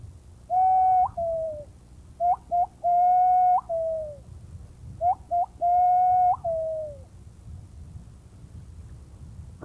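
Loud, close whistled imitation of the pomba legítima pigeon: three phrases, each a few short notes leading into a long sustained coo that slides downward, with quiet outdoor rural background between.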